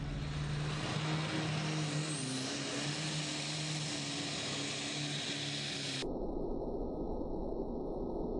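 Heavily modified pulling tractor fitted with a Ford GAA V8 engine roars loud and steady throughout, a sustained broadband engine drone with a sharp shift in tone around six seconds.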